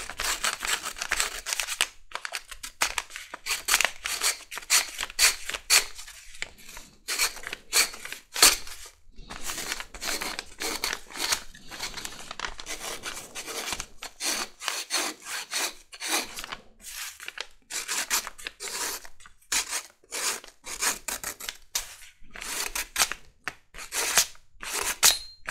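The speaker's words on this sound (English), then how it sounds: "Go ahead and rough up our welt slash spacer piece" A leather welt spacer piece for a bowie knife sheath being roughed up with rapid, rhythmic scratchy rasping strokes, close and continuous with brief pauses, no talk.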